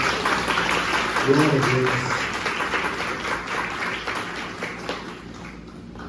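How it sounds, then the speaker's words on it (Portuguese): Church congregation applauding together, a broad sustained wash of clapping with a short sung or spoken phrase over it, fading slowly toward the end. "Você pode dar uma salva de palmas para Jesus, agradecendo a Deus por isso"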